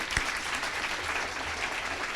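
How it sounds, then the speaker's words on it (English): A room at a nursing school gift announcement applauds the development staff, a steady, fairly close burst of clapping from a modest crowd with no speech over it. "Let's give them a round of applause."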